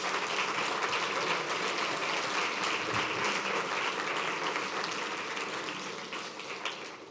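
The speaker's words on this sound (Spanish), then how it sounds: "¿Se merece o no se merece un aplauso al Señor?" A church congregation applauds during a sermon, a dense, sustained wash of many hands clapping that holds steady and then tapers slightly toward the end.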